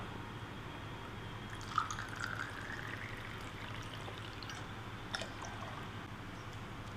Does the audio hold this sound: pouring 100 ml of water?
yes